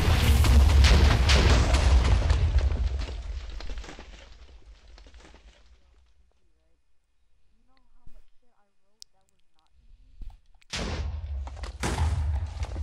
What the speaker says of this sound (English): one more actually good TNT explosion.